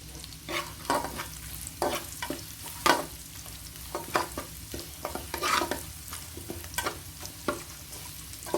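Chili and garlic sizzle steadily in a hot pan while a spatula scrapes and stirs in quick, irregular strokes, close up.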